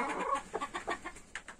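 A broody Silkie hen sitting in a coop gives a run of short, close clucks, uneven in rhythm, with brief gaps between them and no other voices.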